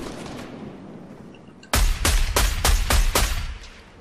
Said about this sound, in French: Oh, ça tire dans tous les sens.